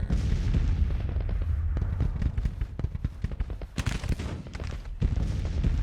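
An artillery battery fires in a Civil War strategy game, a rapid series of deep booms and cracks overlapping one another, loud and continuous without talk.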